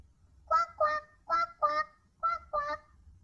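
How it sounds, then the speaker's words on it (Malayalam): Six loud nasal honks from ducks swimming on a zoo lake, close and distinct, come in two groups with short pauses between. "ആ തടാകത്തിലാകട്ടെ നിറയെ താറാവുകൾ നീന്തി തുടിക്കുന്നുണ്ടായിരുന്നു"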